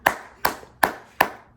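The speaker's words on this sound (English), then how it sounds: "Round of applause for Mr. Dick Cheney" Four sharp, evenly spaced claps at a slow, deliberate tempo, close and fairly loud with short decays and no voices, offered as a round of applause.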